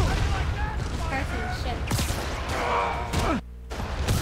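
Incoming rockets explode in a video game firefight, with crashing blasts and gunfire-like bursts under and between voices, then a sudden brief drop to near silence before the noise resumes.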